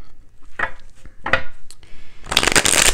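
Tarot cards being shuffled up close: two short riffling bursts, then a longer, louder run of rapid card flutters, with no talk.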